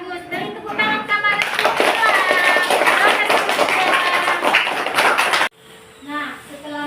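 A classroom of children claps together after a lesson, the rapid clapping swelling after a teacher speaks and stopping abruptly, followed by more talking and a few quieter claps.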